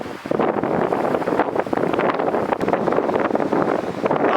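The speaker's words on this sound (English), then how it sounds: "The wind is still nasty." Strong winter wind gusting during a snowstorm with light snow, a loud, steady roar buffeting the microphone with short dips and surges, alone and close.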